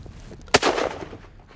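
A single sharp rifle shot fired while hunting cracks loud and close, followed by a brief rolling echo that fades within a second.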